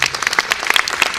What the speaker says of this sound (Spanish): por favor, le brindamos un fortísimo aplauso.